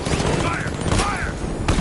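Rapid gunfire bursts in Batman: Arkham Knight, a dense crackle of shots with sweeping whooshes on top, loud and close. Shouted voices come through between the volleys.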